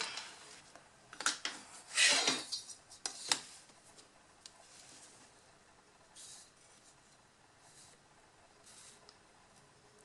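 Paper being cut for a square mini photo album, a few close scissor snips and rustles early on, then quiet scraping and handling sounds.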